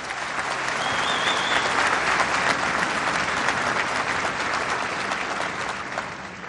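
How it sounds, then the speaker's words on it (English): Troops applauding at a military gathering in Afghanistan, a dense, sustained roar of clapping from a large crowd, steady and loud throughout. "Please give your outstanding team a big round of applause."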